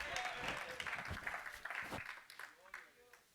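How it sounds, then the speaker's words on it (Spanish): A church congregation claps along in a worship service, a dense spread of hand claps under a loud voice leading the crowd, with cheering voices mixed in. "Dale palmas al Rey, gózate, tenemos victoria y hoy es una fiesta."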